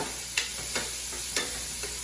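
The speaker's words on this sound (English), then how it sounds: "we have sauteed the onion and the green pepper" Chopped onion and green pepper sauté in olive oil for a meat lasagna, a constant hiss broken by a few spaced spatula scrapes or taps.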